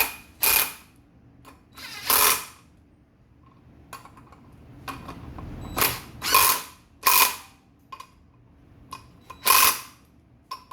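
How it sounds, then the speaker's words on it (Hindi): A ratchet wrench tightening nuts in a criss-cross pattern on a Honda Activa scooter during brake drum work, with sharp clicking bursts repeated at intervals and quieter ticks between them, close by with no talk. "अभी इसको भी हमें क्रिस क्रॉस पैटर्न में टाइट करना है, जैसे हम लोग बाकी की नट्स या फिर बोल्ट टाइट करते हैं उस प्रकार"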